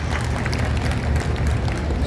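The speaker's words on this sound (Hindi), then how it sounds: "जरा एक बार ढंग से ताली बजा तो फिर शुरू हो जाओ" An audience claps at a Hindi poetry gathering, the Kajali Teej kavi sammelan in Bundi, producing steady, dense applause from a large crowd that holds at an even level throughout.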